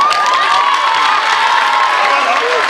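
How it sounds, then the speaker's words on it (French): A school emulation and teacher congratulation ceremony crowd cheers and shouts continuously, with children's voices and some clapping making a loud, dense, sustained roar throughout. "et moi je vous applaudis."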